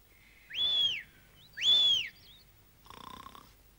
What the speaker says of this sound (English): He's still snoring